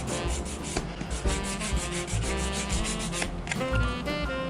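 Close, vigorous sanding of a gesso-coated base surface, continuous rhythmic rasping strokes with a rough, gritty texture, loud and alone.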